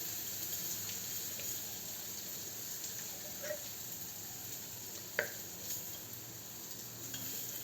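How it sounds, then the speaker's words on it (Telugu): Asafoetida sizzles faintly in hot oil on a stove that has just been switched off, a soft, steady hiss with a few small pops and no talking. "ఈ ఇంగువ నూనెలో వేసేద్దాం"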